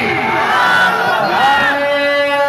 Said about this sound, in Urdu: ایک بار نعرے تکبیر سے استقبال کیجئے, دونوں ہاتھوں کو اٹھا کر کے نعرے تکبیر